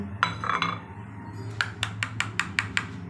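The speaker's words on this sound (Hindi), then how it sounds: "दही में इसे अच्छे से मिक्स करना है" Metal spoon clinking against a bowl while spices are mixed into yogurt, a few scraping taps early and then a steady run of six or seven evenly spaced, bright clinks, close and alone.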